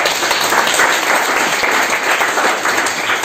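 A seminary audience applauding and cheering for the preacher during a church teaching day, a dense, steady wash of clapping filling the whole stretch at close, loud level with no clear break.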